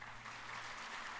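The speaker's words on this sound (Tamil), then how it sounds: "அதனால் இங்கே தேர்ந்தெடுத்த காலேஜ் தேர்ந்தெடுத்த ஒவ்வொரு மாணவனும் ஒவ்வொரு பெற்றோரும் நல்லா உங்களுக்கே ஒரு வாட்டி கை தட்டிக்கோங்க." Audience applause at a college inaugural function, a brief dense wash of many hands clapping steadily, soft and distant in a large hall.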